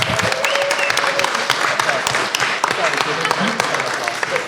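A conference audience at Sunstone 2016 applauds a podcast panel: steady, dense clapping from a crowd, moderately loud and unbroken, with a voice speaking over it.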